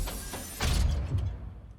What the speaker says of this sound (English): This is one of those airlock samples.